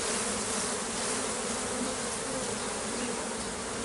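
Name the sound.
honeybees buzzing around hive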